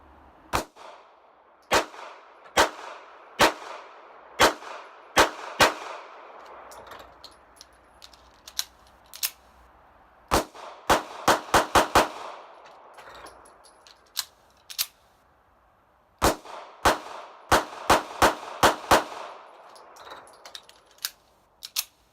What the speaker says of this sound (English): I'm just going to go ahead and shoot through it.